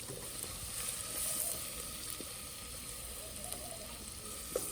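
Mustard seeds, shallots, crushed garlic and ginger sizzle in oil for a Kerala-style duck curry, a faint continuous frying hiss with a few small pops and crackles.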